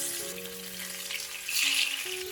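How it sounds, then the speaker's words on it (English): Marinated fish pieces drop into hot mustard oil and fry with a steady, close sizzle, which grows louder and brighter partway through as more pieces hit the pan. "Our mustard oil is hot, and now I'm going to add in the marinated fish pieces"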